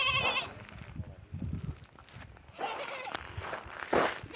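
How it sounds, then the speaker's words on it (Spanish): Goats bleating on a goat farm, with several calls rising at intervals among shuffling and nearby voices talking. "Ahora yo voy a una zona que se ve que aquí están criando cabras."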